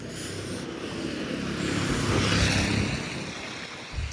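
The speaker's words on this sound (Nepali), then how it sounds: "बाइक आयो" A motorbike passes on a windy mountain road in Mustang, its broad engine rumble swelling to a peak midway and fading, with wind noise throughout and no talk.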